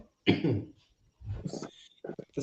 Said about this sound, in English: It's not a bad cough.